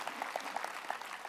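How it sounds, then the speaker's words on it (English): A church congregation gives a brief round of hand clapping in a worship service, light and scattered with separate claps standing out, faint and short. "let's give them all a hand clap for all they do to help"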